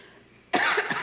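A single sharp cough bursts out close by after a moment of near silence.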